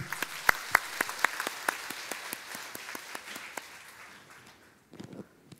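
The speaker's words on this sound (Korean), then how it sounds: "격려의 박수 한번 부탁드리겠습니다" A church congregation at a Sunday worship service offers applause of encouragement: a handful of distinct, sharp hand claps spaced apart, thinning and fading into quiet before a faint shuffle at the end.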